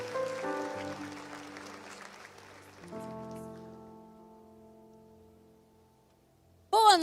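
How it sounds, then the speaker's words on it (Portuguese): Applause in a church service fades out over the first few seconds while sustained keyboard chords ring on and slowly die away, followed by a sudden burst of sound. "Dê mais uma salva de palmas."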